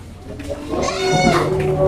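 Goats in a pen give a few wavering bleats, loud and close, overlapping one another toward the end of the short stretch.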